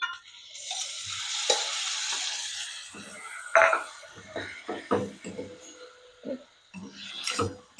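Paneer frying in hot butter and oil, giving a loud, close sizzle that swells when the cheese goes in and then breaks into crackles and stirring clinks.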